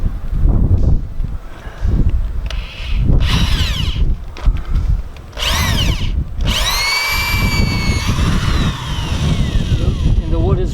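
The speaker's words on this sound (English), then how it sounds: "I need to drill a hole in here for the rebar." A power drill whirring in bursts into wet wood, starting and stopping several times with rising and falling pitch, close by.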